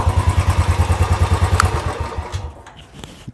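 A 2021 Royal Enfield Bullet 350 Classic single-cylinder engine runs close by with a steady, loud, even thump that fades and drops off toward the end, no voices over it.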